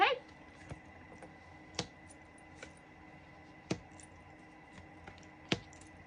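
Soft, scattered clicks and light slaps of tarot cards being shuffled, several distinct taps spaced irregularly in a quiet room.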